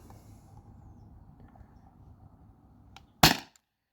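A single sharp crack from a Beeman CO2 air pistol firing an aluminum ball, loud and close, standing alone after a few seconds of quiet room hiss.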